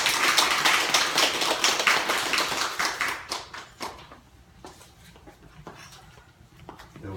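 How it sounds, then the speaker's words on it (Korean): Congregation in a church breaking into dense, loud clapping that thins out into scattered claps and fades after a few seconds, with no voices over it. "나왔을 때 큰 박수로 맞추시기 바랍니다."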